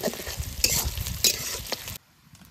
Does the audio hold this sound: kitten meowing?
no